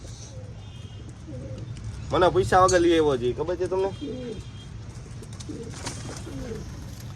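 Pigeons coo softly in the background while someone speaks loudly over them, against a low steady hum.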